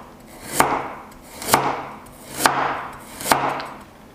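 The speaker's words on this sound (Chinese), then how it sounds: "切成片" Four evenly spaced, sharp knife strokes slice peeled carrots on a cutting board, each a crisp thud with a short fading rasp, close and alone in a quiet room.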